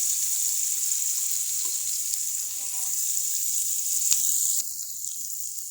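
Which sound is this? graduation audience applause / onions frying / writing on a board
onions frying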